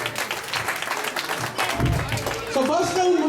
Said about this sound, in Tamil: இன்ஸ்டாகிராம் டீமுக்கு ஒரு கரகோஷம் பண்ணி பார்க்கலாம்